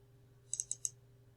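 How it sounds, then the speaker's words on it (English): A computer mouse double-clicked twice in quick succession gives four faint, crisp clicks close together over a low steady hum in a quiet room. "Then to start the program you double click on CropET."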